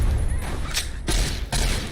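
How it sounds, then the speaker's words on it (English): Grenade blast in modded Fallout New Vegas, part of a loud gunfire-heavy fight, with repeated booming bursts and crackling shots filling the whole moment. "Here's a grenade for y'all."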